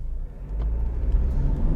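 A 2020 Skoda Octavia Combi 2.0 TDI diesel with DSG gearbox pulls away in sport mode, giving a close, steady low engine rumble that builds slightly as it moves off.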